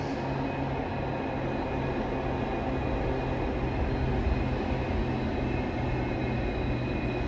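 Steady, continuous rail rumble of a Hunter line passenger train pulling away from Maitland station, New South Wales, broadband and fairly loud throughout with a faint high whine on top.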